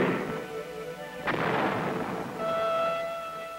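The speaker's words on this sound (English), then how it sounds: "To stabilize a slope at a short distance, a rifle grenade may be used with good results." A rifle grenade bursts against a snow slope with a single sharp distant boom that rolls out into a long, fading rumble in open mountain terrain.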